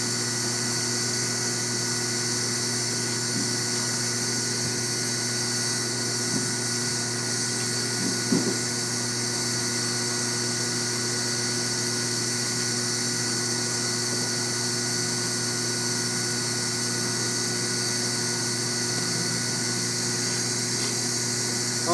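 A steady, whining blower hum with tonal overtones from hot-air welding a PVC single-ply roofing patch, continuous throughout with a faint click partway through.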